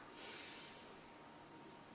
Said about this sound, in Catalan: L'aire entra pel nas